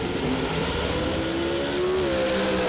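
A pro dragster on a drag strip roars through its run with one continuous loud engine note that holds steady and shifts pitch slightly partway through, with no speech over it.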